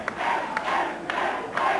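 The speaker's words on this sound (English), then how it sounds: "The crowd starting to yell, Dewey," Wrestling crowd at an NWA St. Louis show yelling and chanting a name, a loud roaring mass of voices rising in repeated surges about every half second, arena echo, no commentary over it.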